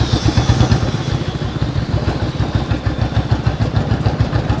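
A 1993 Royal Enfield Bullet single-cylinder motorcycle engine runs steadily at close range, a loud, even low thumping beat with mechanical clatter throughout and no talk.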